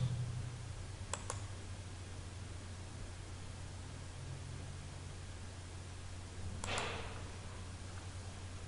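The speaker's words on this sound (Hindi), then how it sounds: "इस पर आपने क्लिक करना है" Computer mouse clicks while working on a PC: a quick double click, then another sharp click several seconds later, small and close over a steady background hum.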